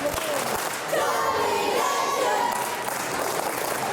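An arena crowd in Lincoln claps and cheers steadily for fighter Joey Legend, a dense continuous roar of applause with a commentator talking over it.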